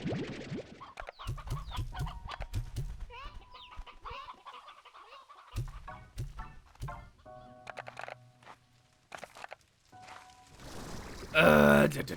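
Hens cluck and squawk in a slime-farming video game, scattered clucks and short calls through the clip amid game sound effects and clicks, ending in a loud burst of noise.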